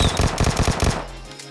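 Rapid automatic gunfire from PUBG Mobile, played on a Poco X3 NFC phone: five or six loud, evenly spaced bursts close up in the first second, then a short ringing tail fading into quiet.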